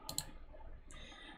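A quick pair of sharp mouse clicks on a computer, close and crisp, followed by a faint softer click against quiet room noise.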